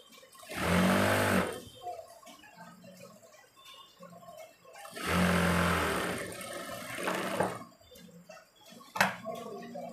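A sewing machine stitches the folded cuff of a kameez sleeve in two short whirring runs, each a few seconds long and fairly close, with quiet handling noise between them.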